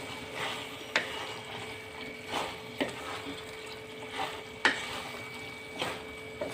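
Jackfruit pieces frying in oil for curry are stirred in a pan; fairly quiet, with a low sizzle beneath intermittent scraping strokes and light clicks every second or so.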